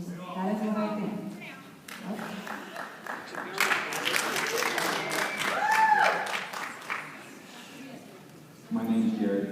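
An audience claps at a public meeting about a school's Redskins mascot, a scattered round of applause swelling in the middle, with voices speaking before and after it.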